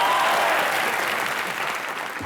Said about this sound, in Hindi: जोरदार तालियां ठोको जरा